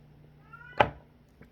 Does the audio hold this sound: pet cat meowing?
yes